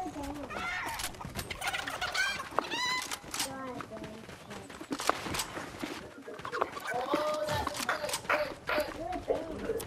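Chicken clucking in the Fortnite video game, a busy run of bird-like squawks and clucks mixed with game noise and people talking over it throughout.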